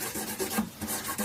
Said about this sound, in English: I will just go over this edges here with a tiny flexible file, bit of sandpaper attached to a cable tie